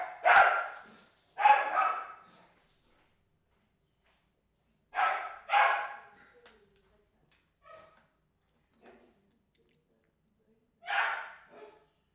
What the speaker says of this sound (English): my dog, I don't know what's happening.